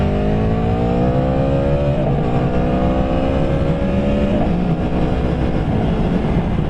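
A 2017 Aprilia Tuono motorcycle engine revs hard at full throttle, loud and close, with rising whining pitch sweeps that climb, drop briefly and climb again through the gears.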